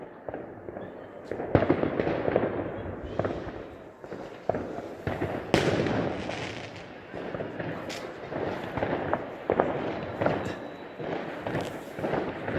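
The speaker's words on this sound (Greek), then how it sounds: "Πάρα πολλά βεγγαλικά από διάφορα σημεία της πόλης." New Year fireworks bursting from many points across Alexandria, with repeated sharp cracks and booms at uneven intervals over a steady crackling rumble, some near and some distant.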